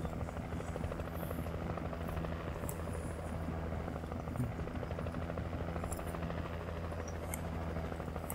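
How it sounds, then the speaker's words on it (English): A helicopter in the video game Alan Wake drones with a steady, dense rotor thrum and buzz, continuous and fairly prominent, with faint scattered game effects on top. "Did you see the fucking helicopter teleport?"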